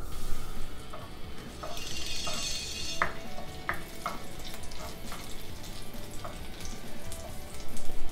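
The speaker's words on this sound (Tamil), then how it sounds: "எண்ணெய் சூடானதும் ஒரு சின்ன துண்டு பிரிஞ்சி இலை சேர்த்துக்கலாம். இது வந்து நல்லா வதங்கட்டும்." A bay leaf sautés in hot oil in a kadai, giving a close, steady sizzle with a brief hissing burst near the start and scattered light clicks and taps from stirring, with no talking.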